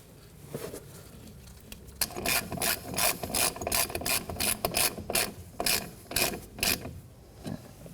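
A ratchet clicks in quick, sharp bursts of rapid pawl clicks while snugging a front brake flex hose fitting at the caliper of a 2011-2016 Kia Optima, close and crisp, with short pauses between strokes and no talking.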